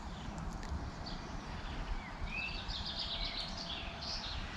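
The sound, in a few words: birds singing in garden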